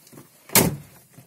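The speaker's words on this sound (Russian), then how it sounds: "закрыли за собой дверь." A car door shuts once with a single sharp, solid thud, close and loud, inside a garage before the car drives out.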